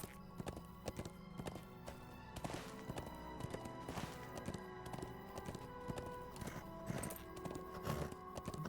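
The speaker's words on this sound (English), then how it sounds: "It's a wild donkey." Hooves of a wild donkey clip-clopping in the video game LOTRO, a quiet, steady walking rhythm of light taps over a low ambient game soundscape.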